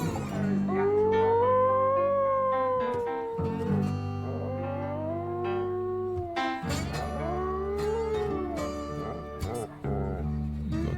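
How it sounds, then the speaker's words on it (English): A dog howls along with a song, long wavering rising and falling howls over guitar and band music, loud and close in the mix. "The dog."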